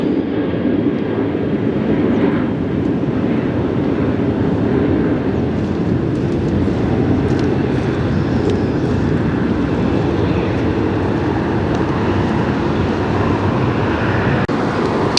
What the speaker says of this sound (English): Continental registration aircraft, and this is inbound from Narita, Tokyo Narita